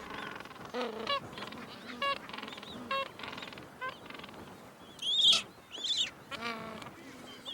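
Penguins in a colony at Volunteer Point squabble and call, giving repeated harsh braying honks and squawks that overlap and rise into a louder burst near the end, close and alone without talk.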